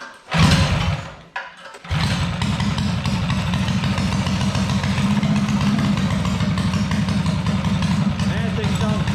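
Tillotson 212 Stage 2 engine on a drift trike starts with a sputter and burst, then settles into a steady, loud, throbbing idle that runs without a break, close up.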